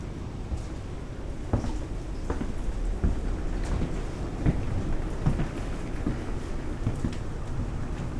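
Heavy rain pours steadily through a severe thunderstorm in Huntersville, heard from indoors, with several sharp thunder cracks and rumbles breaking over the constant downpour.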